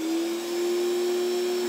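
Electric entry-level Greenworks pressure washer squealing as pressure builds back up after the trigger is released: a steady, loud, high-pitched whine holding one constant tone over a motor hum for the whole stretch.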